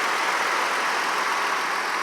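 A 2004 Toyota Avalon's 3.0-liter 24-valve VVT V6 idles smoothly and quietly, a steady close-up hum with no variation and no voices over the short stretch.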